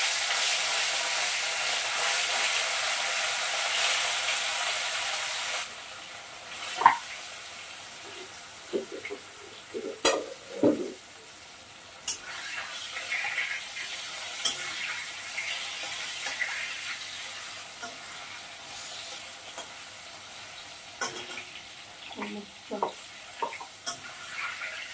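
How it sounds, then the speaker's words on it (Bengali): Fish frying in a pan in a home kitchen, a steady sizzle with scattered clatters and stirring sounds, brief running-tap noise and a few soft voices in the background. "এখন মাছ ভাজবো"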